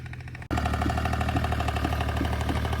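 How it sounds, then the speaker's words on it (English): A farm tractor runs steadily and loudly up close while hauling hay, its engine starting abruptly and then droning on with an even, throbbing idle. "So we're moving this hay in with this tractor."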